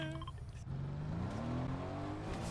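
Car driving in the Fortnite video game, an engine whine that rises in pitch as it accelerates steadily after an initial shift, loud and continuous with no talking.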